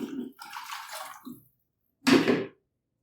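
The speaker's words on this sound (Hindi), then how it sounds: "अब हम इसमें 2 लीटर पानी डाल देंगे।" About two liters of water pours and splashes into a cooking pot of kadhi in two close bursts, a longer gush followed by a short pause and a second brief splash, no talking.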